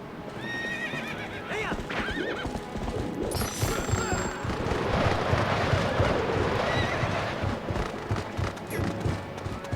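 Horse galloping in the video game Zelda Twilight Princess, with rapid thudding hoofbeats and a loud whinny, amid crashing battle noise.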